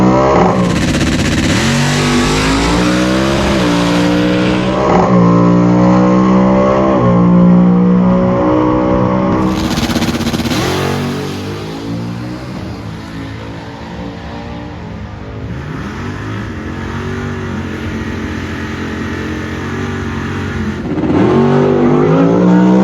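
At a quarter-mile drag race, a Lucid Sapphire on drag radials and a Tesla Plaid launch side by side with a loud, near whine that climbs repeatedly in pitch as the cars pull away, then fades and swells again.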